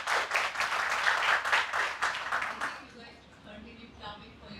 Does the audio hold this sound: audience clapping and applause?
yes